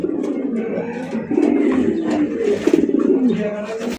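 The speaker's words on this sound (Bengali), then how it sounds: "এই জোড়া আপনার জন্য বেস্ট এক জোড়া কবুতর" A pair of white racer pigeons cooing close by, with repeated soft throaty coos and rising calls over a few seconds and some faint background voices.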